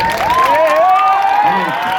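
A crowd at a live stage show cheers and applauds loudly and continuously, with a high shrill shout or whistle rising above the dense clapping.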